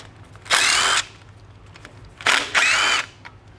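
A power tool whirs in two short bursts, close up, while loosening bolts on a Scout's rear differential cover, with quiet pauses between the bursts.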